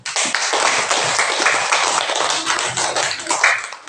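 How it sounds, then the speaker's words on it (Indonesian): Classroom audience applause, many hands clapping in a dense, steady patter that stays loud and close for the whole stretch, with no talking over it. "kita kasih aplaus tepuk tangan dulu"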